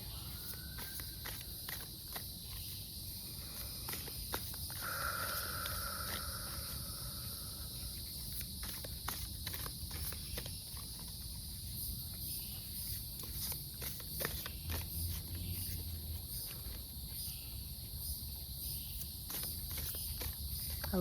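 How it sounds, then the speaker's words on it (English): Cicadas in the woods give a faint, steady high buzz that runs unbroken through the whole stretch, while footsteps crunch nearby and leaves rustle now and then. "I hope y'all can hear I guess they're cicadas."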